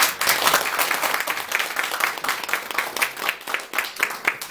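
Dense, steady applause from an audience filling a hall at a forum event, close and loud, with many overlapping claps rolling on for the whole stretch.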